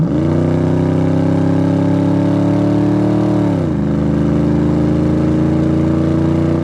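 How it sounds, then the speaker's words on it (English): A steady, deep-throated rumble of a supercharged 302 V8 exhaust on a 1989 Ford Mustang idling close by, dropping slightly in pitch partway through, loud and continuous. "You hear the exhaust more than you do anything else."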